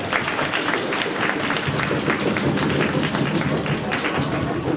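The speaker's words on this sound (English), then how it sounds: "let's give your parents and families a big round of applause" Steady, dense clapping from a school spring concert audience of students, parents and families, loud and continuous throughout with no gaps.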